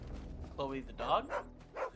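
Dog barks from Chloe the dog in Final Fantasy 16, a few short yips and barks over game music and ambience, with a character's voice talking around them.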